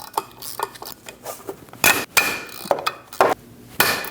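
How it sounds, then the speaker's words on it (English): An 8mm Allen wrench working on the drive shaft bolts of a 2011 Dodge Durango 5.7L V8 gives clanking metal knocks and scrapes at an uneven rhythm. The hits are close and a few are sharp, with no voices. "Using an 8mm Allen, we're going to remove the 8 bolts for the drive shaft."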